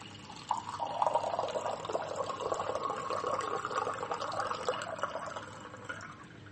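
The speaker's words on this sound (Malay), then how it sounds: "ustaz akan tuangkan air ke dalam gelas satu lagi" Water is poured steadily into a drinking glass for several seconds, a continuous splashing trickle recorded close up at low volume in an indoor demonstration.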